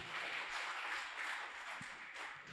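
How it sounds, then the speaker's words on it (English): A small audience applauds after a speaker's talk, a soft, steady wash of clapping heard faintly from a distance for a couple of seconds. "let's give a round of applause"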